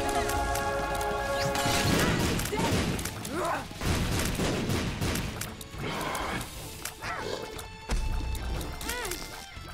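Bombs explode in Binding of Isaac Repentance, several booming crashes spread through busy game noise, loud and close, with a person talking over them.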